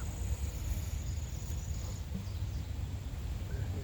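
Honeybees buzzing around an open hive during a treeline hive inspection, a low, dense, continuous hum steady throughout with no talking.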